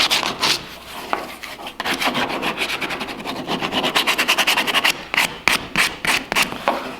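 A kayak hull is sanded by hand before a keel guard goes on, with loud, close, rhythmic scratchy rubbing strokes that speed up into quick, even back-and-forth passes.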